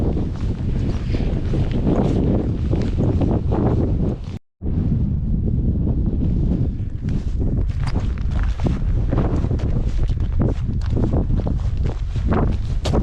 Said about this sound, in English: Wind is chilly, man.